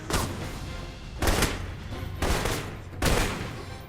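Video game gunfire in Alpha Protocol: four loud, booming bursts of shots spaced about a second apart over a continuous rumbling backdrop, with no voices.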